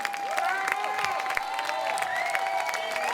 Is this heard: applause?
yes